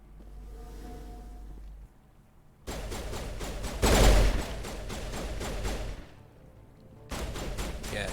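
Bursts of gunfire from enemy AIs in Mass Effect 1 Legendary Edition on Noveria, loud crackling volleys starting and stopping in sections, with a quiet gap between and a heavier peak near the middle.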